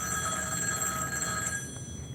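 A telephone rings steadily at close range, its bright electronic bell tone sustained across the whole stretch with no voices over it.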